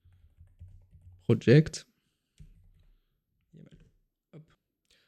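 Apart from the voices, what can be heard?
typing on a computer keyboard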